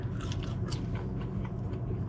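Biting into crunchy classic potato chips up close, a quick series of brittle crunches and chewing over a steady low background hum.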